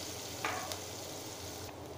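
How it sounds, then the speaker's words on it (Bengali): Chopped onions frying in a little oil in a pan, a soft steady sizzle with a couple of brief stirring scrapes, moderately quiet and without speech. "পেঁয়াজ কুচিটা দিয়ে আমি একটু নেড়ে চেড়ে ভেজে তারপর মশলাগুলো দিয়ে দিব"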